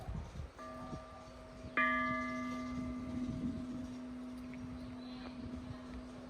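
Bells ring in Vang Vieng, Laos, a sustained metallic tone struck once and then struck again more strongly, with long ringing decay over faint outdoor background.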